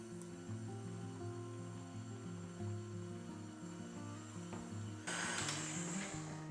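An electric mixer runs at low speed through cream cheese and icing sugar, a steady droning whir with shifting motor tones and no talk, brightening into a higher, louder buzz for the final second.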